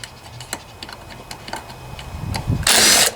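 A ratchet with a 5/16 socket works on the head bolts of a Briggs & Stratton 163cc engine on a Toro mower. It gives a series of sharp, close clicks, then a louder rustling, clattering burst at the end.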